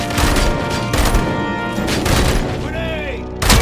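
Gunfire in the shooter RoboCop: Rogue City crackles in loud repeated bursts with booms, under shouted voices, ending with a sharp whine and a final blast.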